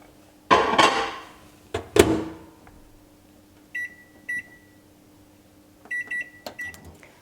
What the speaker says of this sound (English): And that will bake in the microwave for about 1 minute.